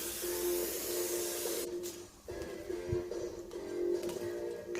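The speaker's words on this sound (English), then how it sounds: "Just spray the tank." Cleaner sprayed onto the fuel tank of a Sinnis 125 Max 2 / Qingqi QM125 motorbike: a loud, continuous close hiss of spray, then several shorter hissing squirts with small handling clunks.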